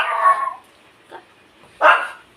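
Stray dog loose from its home on a rainy day, giving two loud whimpering barks separated by a soft yip, near and alone.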